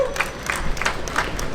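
Applause from an outdoor crowd at a city Hispanic Heritage Month flag-raising, a short burst of scattered, moderately close clapping with a few distinct claps standing out.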